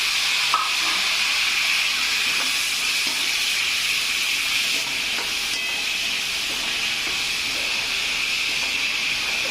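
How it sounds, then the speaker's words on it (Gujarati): Curry leaves and two tomatoes sautéing in oil over fried onion, ginger and garlic for restaurant-style dal fry, a steady close hiss of sizzling with faint stirring clicks throughout, no talking. "અને તેલમાં સાતળવા દેશું"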